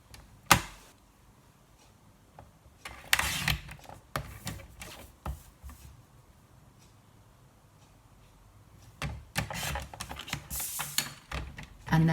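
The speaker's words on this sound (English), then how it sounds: "I'm just using the trimmer to do this" A paper trimmer cuts and scores card stock for a handmade box, giving a few sharp, close clicks and short sliding swipes separated by quiet pauses, with a denser run of clicks near the end; no one speaks.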